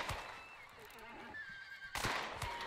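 A horse in the video game Hunt: Showdown whinnies in a drawn-out, wavering neigh over faint background noise, followed by a short burst of nearby game sounds.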